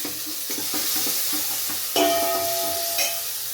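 Crushed garlic, coriander, curry leaves and dried red chillies frying in hot oil for Kannada-style tomato rasam, a steady close sizzle with stirring scrapes and a brief metallic clink of the pan.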